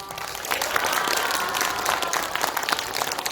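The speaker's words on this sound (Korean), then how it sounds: "우리 선생님들 다시 한번 인사드릴 때 응원의 박수 부탁드립니다" An audience at a middle-school admissions briefing in a library hall applauds teachers with dense, steady clapping that stays even and moderately loud for a few seconds.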